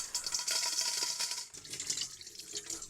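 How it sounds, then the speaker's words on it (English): Water running from a water pick tool into a cooking pot for pasta, a steady close hiss and splash that briefly eases and then resumes, with no talk. "so you're just going to fill the pot with the water pick tool"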